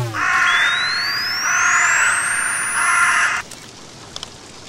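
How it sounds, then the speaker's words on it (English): Crows caw in a continuous harsh chorus inside the horror game Shutter, loud and close, with a rising synthetic tone sweeping up behind them before the cawing cuts off abruptly, leaving near silence and a couple of faint clicks. "the crows are crowing inside my brain."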